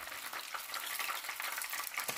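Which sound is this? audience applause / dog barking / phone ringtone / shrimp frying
shrimp frying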